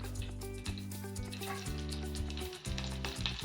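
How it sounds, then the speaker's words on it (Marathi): Mustard seeds crackle and sizzle in hot oil in a pan, tempering for kadhi, a steady close frying hiss dotted with small pops, set against a faint tonal background hum. "आता आपण फोडणी करूया कढीची मोहरी टाकूया अर्धा चमचा मोहरी तडली आहे"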